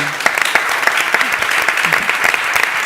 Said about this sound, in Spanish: Un aplauso para la madre de Tony.